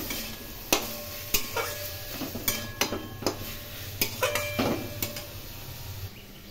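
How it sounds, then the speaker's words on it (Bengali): Boiled soybean chunks being stir-fried in spice masala, with a utensil scraping and knocking against the pan in repeated sharp strokes over a steady low sizzle, close and fairly quiet. "এর মধ্যে সয়াবিন সিদ্ধ দিয়ে দিলাম। একটু ভালো করে কষাতে হবে।"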